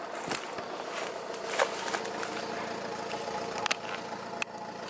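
A high-mileage Ford diesel car engine idles steadily close by after starting, a low rumbling drone with a few small clicks and knocks over it.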